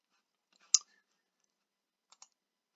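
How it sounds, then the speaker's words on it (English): A single sharp mouse click, close and crisp, sends a message in MS Teams, followed after a pause by two faint, quick clicks in near silence. "click on send"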